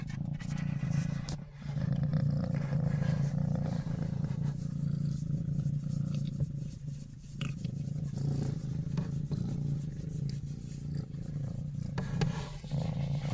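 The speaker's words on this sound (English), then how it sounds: "Oh, she's purring too." A kitten purring close up, a steady low rumbling purr that runs continuously with only brief dips, loud and near with no talking.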